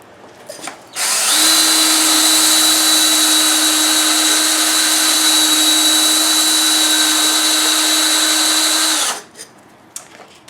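A power tool fitted with sandpaper sands the edge of a glass bottle, about 120 grit. It gives one loud, steady high whine lasting roughly eight seconds, close by, with brief quiet handling noise before and after.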